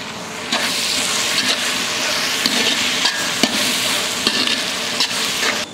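A handful of mint is stirred into sautéed tomatoes for a large batch of vegetable biryani. The pan gives a loud, continuous sizzle, with regular scrapes of the spoon against it.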